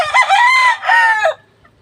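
A Kelso fighting rooster crows loudly and close by, one long strained call that breaks into two parts and then trails off abruptly.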